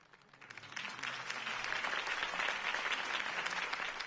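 Crowd applause in the Batman Telltale video game following Harvey Dent's campaign speech, swelling from quiet to a full, sustained roar of clapping from a large gathering.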